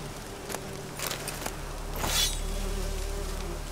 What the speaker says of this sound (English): That buzzing is really loud.